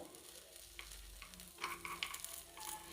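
Rava appe cooking in an appe pan and being turned with a spoon: a soft, steady frying sizzle with a few light scraping clicks near the end, close and fairly quiet.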